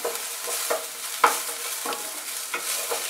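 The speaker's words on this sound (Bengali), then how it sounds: "এবারে আমি পেঁয়াজ কুচানো দিয়ে দিলাম" Chopped onion and garlic frying in oil for a chicken drumstick dish, a gentle steady sizzle punctuated by regular spatula scrapes roughly every half second, close and moderately quiet.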